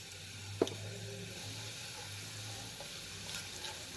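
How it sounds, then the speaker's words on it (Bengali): Turmeric powder sizzling in hot oil in a pan while being stirred, a soft steady frying hiss with a single sharp tap of the spoon early on, no voices. "হলুদের গুঁড়োটা দিয়ে একটু নাড়াচাড়া করতে হবে"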